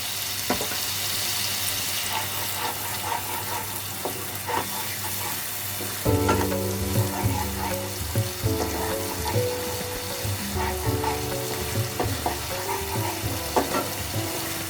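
Garlic and dried red chilli paste frying in a pan, a steady sizzle with occasional stirring scrapes that grows busier and louder midway, close and continuous without talk.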